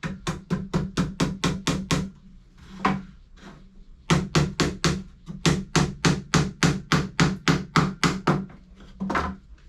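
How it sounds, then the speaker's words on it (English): Rapid hammer blows nailing together wooden beehive frames, in quick rhythmic runs, sharp and close, pausing briefly between bursts of a dozen or so taps. "I'll just normally hammer these in."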